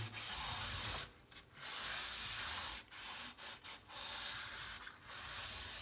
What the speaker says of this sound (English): This is a 800 sandpaper, and I'm going to go all the way through